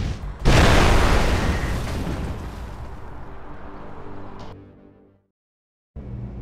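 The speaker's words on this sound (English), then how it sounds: "someone saw the explosion and dragged you out" A single loud, booming explosion in the video game Gangstar Rio erupts suddenly, then a long rumbling roar slowly decays into near silence before the game sound resumes.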